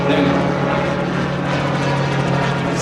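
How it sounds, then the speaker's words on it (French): A gyrocopter flies at an air show in Biscarrosse, its rotor and propeller engine making a continuous loud droning hum that holds steady throughout, with no talk over it. "C'est un gyrocoptère."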